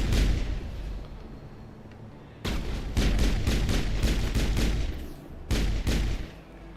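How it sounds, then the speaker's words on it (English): Gunfire in the video game Mass Effect: a loud burst of rapid shots after a quieter stretch, then a second short volley near the end, sharp and close with a rumbling low end. "Those were shots."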